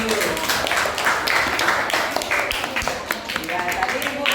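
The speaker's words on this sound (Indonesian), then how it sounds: "Tepuk tangan dulu." Pupils in a classroom break into applause, a dense, continuous patter of many hands clapping fairly loudly for a few seconds, with a voice speaking faintly beneath it.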